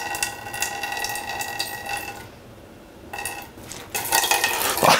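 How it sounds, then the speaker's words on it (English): Running water pours into a cooking pot on a stove for boiling mac and cheese noodles, a steady broadband rush with a brief lull midway before the flow resumes louder, close by and without talk. "So first we gotta get some water to boil the noodles in."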